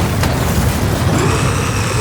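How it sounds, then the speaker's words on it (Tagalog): A deep, rumbling explosion effect in a Filipino aswang horror audio drama, a sustained low boom with a sharp burst near the start and a continuous loud roar throughout, no voices over it. "Pinasabog mo yung lagtaw!"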